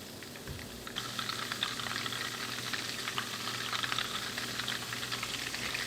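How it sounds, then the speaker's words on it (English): Butter browns in a pan as the base for chocolate chip cookies, giving a steady, close, crackling sizzle that runs evenly throughout with no voices. "So we're going to let it sizzle here for a while."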